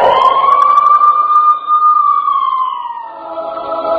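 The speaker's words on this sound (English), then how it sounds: "You hear the siren." An emergency siren wails loud and close, one long smooth tone that rises, holds and slowly falls before giving way to a steadier layered tone.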